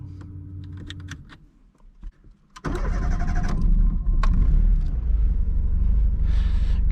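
A 1998 Tofaş Doğan's engine cranks with the starter and catches after a few quiet clicks and thumps, then settles into a steady, loud idle heard from inside the car.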